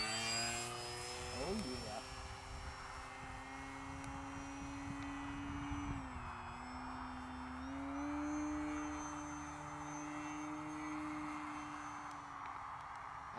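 A HobbyKing Durafly Tundra V2 1300mm RC plane makes a slow pass, its electric motor whining steadily and shifting pitch as it goes by, with a voice briefly heard near the start.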